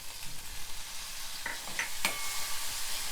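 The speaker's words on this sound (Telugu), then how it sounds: "టమాటా 1 నిమిషం వేయించి" Ripe medium-sized tomatoes fry with curry leaves in a pan for a tomato besan chutney, giving a steady broadband sizzle with a few brief clinks of a spoon against the pan. No one speaks.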